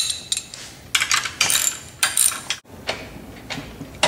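A ratchet wrench snugs down bolts on a hydro cart wheel assembly, producing close, loud bursts of clicking in irregular strokes with short pauses between them.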